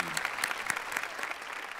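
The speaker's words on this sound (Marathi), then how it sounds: "एकदा जोरदार टाळ्या झाल्या पाहिजेत गिरीशोक सर आणि सौरभ यांच्यासाठी." Audience applause at a Marathi TV comedy show, a steady patter of many hands clapping throughout with faint crowd noise underneath.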